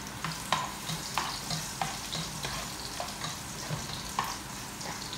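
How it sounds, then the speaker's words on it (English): Garlic fries in a pan for chicken adobo, a steady close sizzle broken by regular sharp scrapes and taps of a utensil stirring every half second or so. "Until it is getting brown, the garlic."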